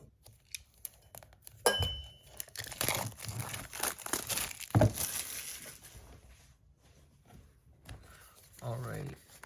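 Plastic packaging for an EDC pod crinkles and crunches as it is cut open, with sharp snips and rustles scattered through a quiet room and a voice speaking at times.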